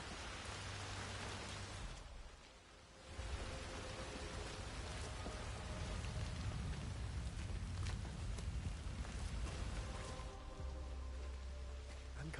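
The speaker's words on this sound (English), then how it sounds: "I'm never going out in the rain again." Steady rain in the video game Hitman 3 pours down as a dense, continuous hiss, with low rumbling undertones and a brief dip in intensity partway through before the downpour resumes at full strength.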